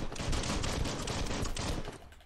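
Rapid gunfire from the player's gun in the action RPG Biomutant, a dense continuous burst of shots lasting about two seconds at steady, loud level with no talk over it.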